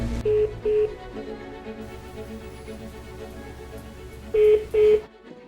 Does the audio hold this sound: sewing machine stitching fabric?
no